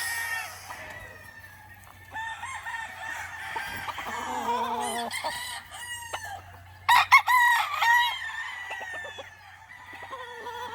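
Gamefowl roosters, NRC Roundhead crossed with Kelso, crow in long drawn-out calls, one after another with some overlapping, amid clucking at a farm, fairly close and loud at times with no voices over them.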